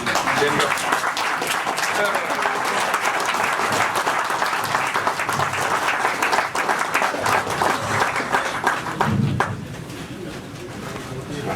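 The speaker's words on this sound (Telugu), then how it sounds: "ఒకసారి గట్టిగా చప్పట్లు కొడతాం, లేచి నిలబడండి." A seated audience at a felicitation event in Vijayawada claps loudly and continuously in a dense, sustained burst that stops abruptly near the end, with faint talk and bird cooing underneath.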